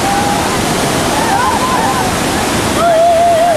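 A waterfall at a hydropower site roars as a loud, steady rush of water, with a voice speaking over it the whole time.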